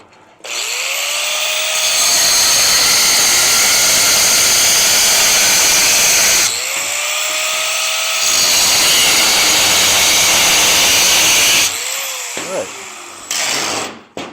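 Electric grinder cutting a piece off a custom 1957 sand rail, two long loud bursts of harsh high-pitched whining grind, each spinning up and running several seconds, then a short third burst near the end.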